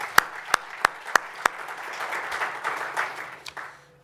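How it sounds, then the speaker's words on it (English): A few sharp, separate claps open, then a lecture audience's applause swells into a soft, continuous patter of many hands in a hall before thinning out. "May we give him a round of applause."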